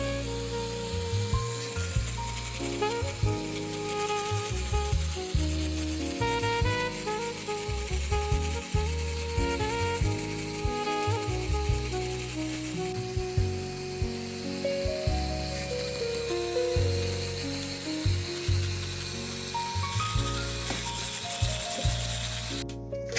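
A Tooltos jewelry flexible shaft motor grinding and polishing, with a steady whirring motor whose pitch wavers and shifts as the tool bites into the work, loud and close for the whole stretch.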